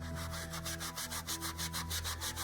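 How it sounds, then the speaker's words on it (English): A sponge rubs back and forth over a stain on a Stokke Tripp Trapp baby set, making a quick, even run of close scrubbing strokes, about six per second, over a faint steady hum. "And we're going to rub."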